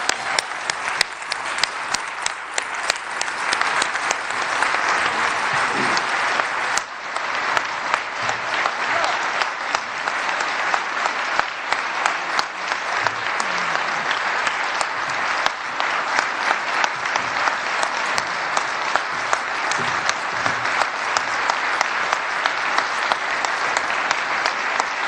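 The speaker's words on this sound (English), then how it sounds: "please allow us all to violate the no clapping rule" A town meeting audience breaks into loud, sustained applause, dense and steady from start to finish, with no pause in the clapping.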